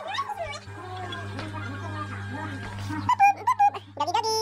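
A dog whimpers and yips in short high-pitched bursts, growing more excited near the end, over a steady low hum and background voices.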